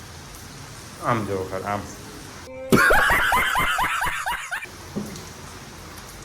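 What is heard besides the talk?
rain falling outside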